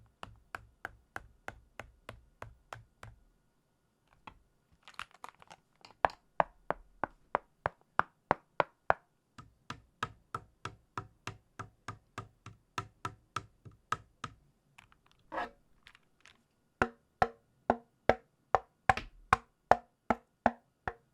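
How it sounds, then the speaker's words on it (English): Knock test on a thin plastic Akko MOD007 keyboard case, compared against a KVD67 Lite case: a long series of sharp, hollow taps, first rapid runs, then evenly spaced single knocks, close and clear with no talking. "The best way I can show it to you is this knock test against my KVD67 Lite"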